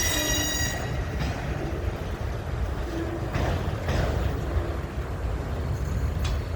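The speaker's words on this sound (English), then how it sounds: "Yeah, you have another train coming." A long freight train rolls past near Wartrace, Tennessee, producing a steady, loud rumble of wagons and wheels with faint squealing tones, continuous throughout with no talk.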